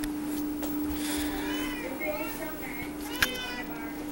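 A pet cat gives a few short, fairly faint meows over a steady background hum while a person talks to it softly.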